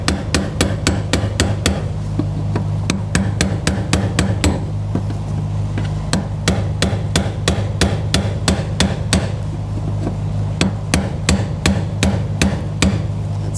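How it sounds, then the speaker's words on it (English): Rapid, sharp metallic hammer blows on a brass punch driving the fuel pump lock ring tight on a 2000-2006 BMW X5, loud and close, struck in quick bursts with short pauses between runs over a low steady hum. "with the brass punch, I'll just tighten this down."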